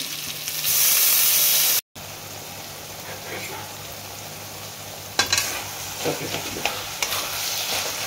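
Water poured into a pan of Bengali white potato curry sets off a loud, hissing burst of sizzle that cuts off abruptly, followed by a softer simmer with scattered scrapes and clinks of stirring.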